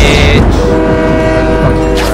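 A train in the video game Fortnite rumbles loudly and close with a sustained tonal horn blast, its mechanical drone filling the whole short stretch without any talking.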